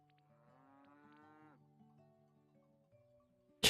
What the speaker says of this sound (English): You can hear them in the background.